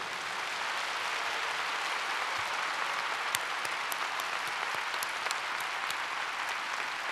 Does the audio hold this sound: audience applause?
yes